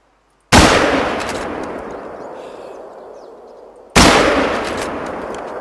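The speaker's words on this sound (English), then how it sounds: "let's see if this is a 270 rifle I'm using with the polymer." Two loud .270 rifle shots with a polymer round in the hunting game The Hunter: Call of the Wild, a few seconds apart. Each sharp crack is followed by a long, slowly fading rolling echo, with no talking.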